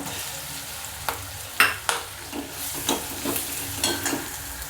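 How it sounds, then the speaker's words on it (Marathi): Onion with salt sautéing in a pan, a continuous sizzle broken by repeated scraping and clinking stirs of a spoon against the pan, close and alone. "हे मीठ कांदा परतताना टाकायचं कांदा लवकर परतो"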